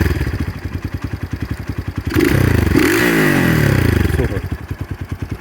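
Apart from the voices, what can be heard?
X-Pro Titan DLX 250cc dirt bike engine idling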